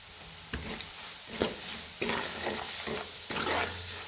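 Red chili powder roasting in a pan over low gas for a Kolhapuri snack, with soft sizzling and intermittent spatula scrapes and stirs, fairly quiet and close.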